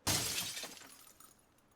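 A glass window shatters in the zombie survival game Project Zomboid, one loud, close crash followed by tinkling debris that fades over about a second.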